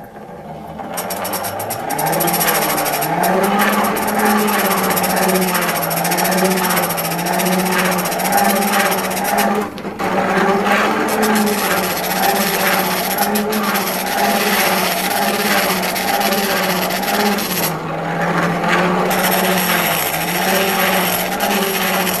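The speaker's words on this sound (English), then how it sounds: "Keystone Railroad Tool Grinder. Good piece of equipment." A Keystone railroad tool grinder, an old but well-kept machine, runs with a loud, steady motor drone and grinding hum that continues nearly unbroken, dipping briefly a couple of times, with no talk over it.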